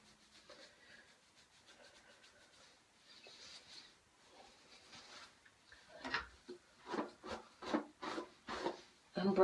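Hands rub styling product into hair close to the microphone, starting as faint scratchy friction and building into a series of rhythmic, louder rubbing strokes toward the end.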